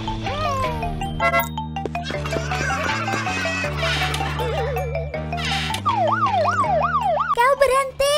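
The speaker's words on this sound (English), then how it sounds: "B, police car." A police siren yelps in rapid rising and falling sweeps near the end, layered over a bouncy musical backing.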